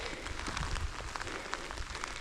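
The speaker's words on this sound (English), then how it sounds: "But it's raining. It's raining pretty good." Heavy rain falls outdoors during a Colorado elk archery hunt in a thunderstorm, a dense, steady hiss of close pattering drops on surfaces that continues unbroken with no voices.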